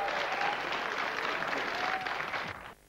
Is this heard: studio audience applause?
yes